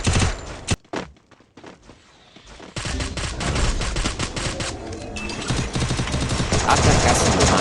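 Rapid gunfire in the video game Free Fire: a few sharp shots, a brief lull, then sustained dense automatic bursts that stay loud and continuous to the end.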